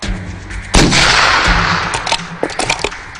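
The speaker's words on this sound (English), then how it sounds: "Thompson demonstrates why the Steyr's telescopic sights would have given the snipers a far better chance against the terrorists" A Steyr SSG-69 sniper rifle fires one loud, sharp shot close by, and its boom rolls out and decays over a couple of seconds.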